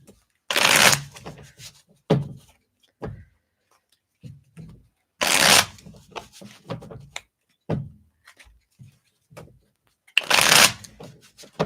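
Playing cards riffle-shuffled in three loud, close bursts, with softer taps and shuffles of the deck between them and no speech.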